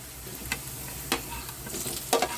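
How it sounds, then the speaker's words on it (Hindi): Capsicum and onion frying with garlic, ginger and green chili in a pan over medium flame, a soft continuous sizzle broken by three or four brief scraping strokes of a spoon stirring, close and quiet, no talk. "तो हम अपने शिमला मिर्च और प्याज डालेंगे, इसको भी थोड़ा सा फ्राई कर लेंगे।"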